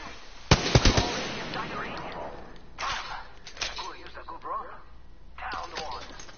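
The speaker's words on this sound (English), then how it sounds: "They're shooting at me." Rapid gunfire bursts from a PS4 shooting game, a quick cluster of sharp cracks early on followed by scattered shots, mixed with game voices and radio chatter.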